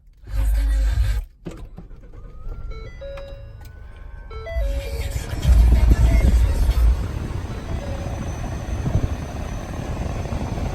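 A 2016 Ford Expedition EL Platinum starts up close by: a short low rumble, a string of electronic dashboard chimes, then the engine swells louder and settles into a steady running hum.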